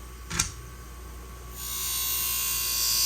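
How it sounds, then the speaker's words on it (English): A small power tool whirs up to a steady high-pitched buzzing drone while polishing an old pair of Wiss thread nippers, preceded by a brief scrape, close and alone. "Let's polish it."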